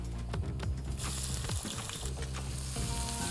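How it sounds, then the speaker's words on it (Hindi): Garlic browning in hot oil in a pan for lasooni paneer, a loud steady sizzle and crackle close up, with occasional stirring scrapes and no voices. "ये जो गार्लिक की अभी ब्राउनिंग हो रही है ना"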